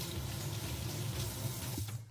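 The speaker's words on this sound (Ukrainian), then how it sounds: "зливаємо молоко і промиваємо масло під холодною водою" Cold tap water running steadily over ghee butter being rinsed in a kitchen sink, a continuous close splashing rush that thins out at the very end.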